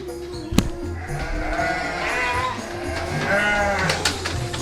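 Thin-tailed sheep and Garut sheep bleat repeatedly in farm pens, several overlapping calls near and far over a steady barn background, with one sharp knock partway through.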